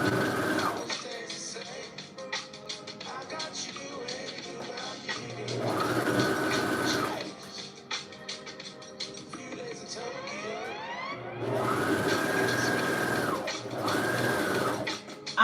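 A sewing machine stitches sweatpants in loud, steady bursts of whirring that start and stop several times, with short pauses and faint handling noises in between.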